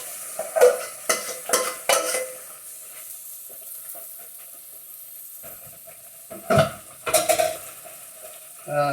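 Curry base gravy for a hot and fiery chicken dupalon frying in a pan and stirred with a spoon, bursts of scraping and clinking at the start and near the end around a quieter steady simmer, close by, no talking.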